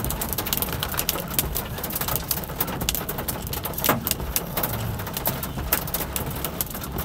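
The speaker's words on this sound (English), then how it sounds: "Been hailing like crazy on me here" Hail pounds on a vehicle stuck in traffic beside road repaving, a dense, constant patter of hard strikes close overhead, with a few sharper knocks standing out and no talking.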